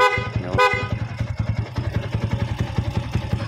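A stock horn on a Yamaha Sniper 150 motorcycle honks in a short blast over a steadily idling engine, loud and close.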